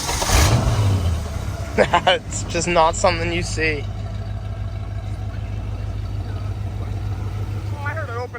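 An old American car engine roars up at the start, then settles into a steady low rumble, with someone talking over it early on, at a local cruise night.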